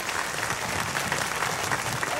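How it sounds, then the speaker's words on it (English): Sustained hand clapping from a studio audience on a Christian television talk show, even and continuous at moderate loudness with no clear break or speech. "Why don't we give him a hand clap"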